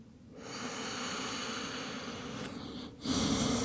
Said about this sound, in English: Inhale for 4 and exhale for 4. Samavriti. Equal inhale, equal exhale.